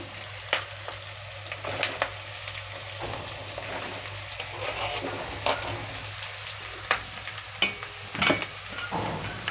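Peeled, cut cucumber pieces are stirred in a hot pan for a cucumber, carrot and capsicum curry, giving a soft continuous sizzle broken by several sharp utensil scrapes and knocks against the pan.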